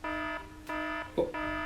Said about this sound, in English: That's the fire alarm. We have to evacuate.